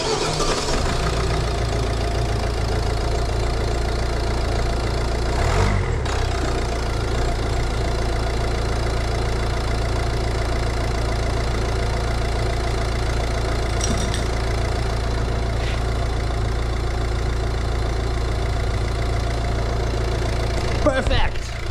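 Volvo V60 DV4 diesel engine running at idle close by, a steady low clattering hum with a brief disturbance near the start and faint knocks, continuing alone without talk.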